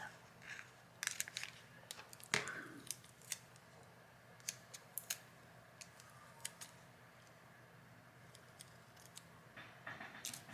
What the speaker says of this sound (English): I should use those scissors.